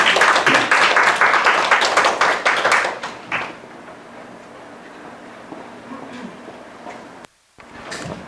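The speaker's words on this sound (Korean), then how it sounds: "여러분 큰 박수로 환영 부탁드립니다." Applause welcoming the Daman CEO to the stage at a 2023 Haman youth startup support event; a dense burst of clapping for about three seconds, then quieter scattered claps and room noise.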